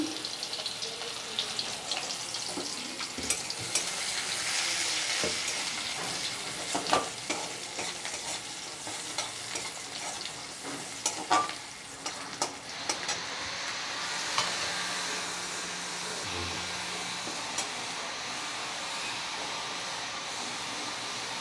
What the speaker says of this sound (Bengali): এতে আমি একটা ছোট্ট একটা পেঁয়াজ কুচি করে দিলাম।